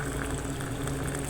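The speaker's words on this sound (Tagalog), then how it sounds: "Tapos, mainit na tubig." Hot water pours steadily into a kimchi cup noodle container, a short continuous rushing, bubbling stream of liquid heard close up and alone.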